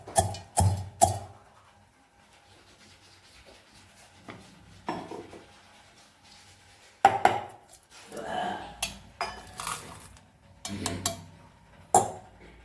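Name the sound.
pounding in mortar and pestle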